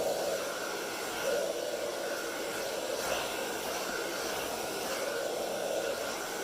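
A blow dryer drying ink on a painting roars steadily and loudly throughout, an even airy whir with a faint hiss on top.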